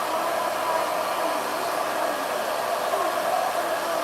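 A hair dryer fitted with a diffuser runs steadily while drying curly hair, a constant close whooshing roar that holds at an even level throughout with no talking.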